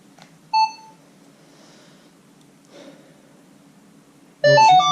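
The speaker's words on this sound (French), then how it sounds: "Donc je vais allumer le détecteur." A Minelab Equinox 800 metal detector powers up outdoors, giving a short clear tonal beep, then a quiet pause, followed by a louder burst of several stacked electronic tones at the end.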